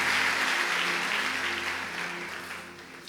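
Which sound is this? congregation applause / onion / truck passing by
congregation applause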